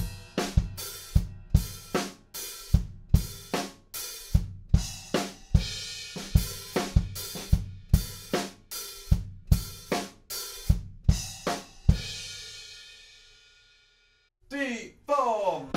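A drum kit plays the pre-chorus groove of a song: loud, close, evenly spaced kick-and-snare hits with ringing cymbals and a crash-washed decay, then a brief spoken voice at the end.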